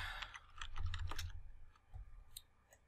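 Typing on a computer keyboard, a quick run of close, crisp key clicks in the first second and a half, then a few scattered taps with low room rumble beneath.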